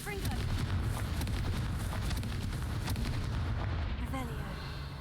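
Confringo fire spell blasts in the video game Hogwarts Legacy go off as loud, dense, booming bursts that fill the whole stretch, with a voice briefly audible among them.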